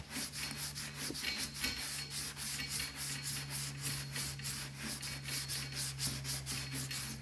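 Block sanding of body filler on a 1963 Cadillac Coupe de Ville: quiet, steady back-and-forth rasping strokes in a fast even rhythm over a low constant hum, with no talk.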